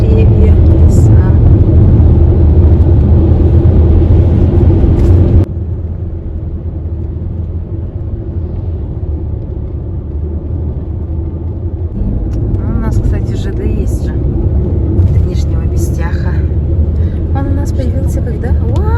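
A car crosses a bridge over the Upper Amga river in Yakutia, its steady low road rumble and engine drone continuous throughout, louder at first then settling, with people talking over it.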